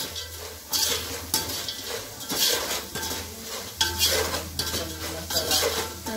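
Spices such as asafoetida, turmeric and salt are stirred and sautéed in a pan, a spoon scraping and clinking against metal in repeated rhythmic strokes over a light sizzle, close and clear with no talking.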